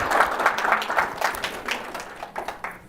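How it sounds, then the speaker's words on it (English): Audience applause at a children's invention convention, a moderate patter of clapping from a smallish crowd that thins out and fades toward the end. "another round of applause for that"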